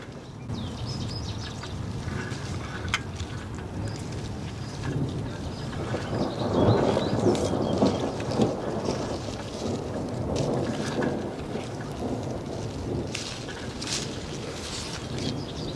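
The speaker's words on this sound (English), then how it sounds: "I don't know if you can hear the thunder, but that storm is getting closer for sure" Steady rain hisses throughout with a low, rolling rumble of distant thunder swelling in the middle, wind gusting faintly.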